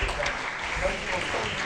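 An audience at an award ceremony for a horticulture conclave applauds a poster-presentation award winner, a short, steady wash of clapping with some voices mixed in.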